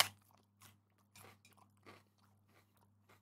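A bite of capsicum with peanut butter gives a crisp crunch followed by a few close, moist crunchy chews at a slow, irregular pace over a low steady hum.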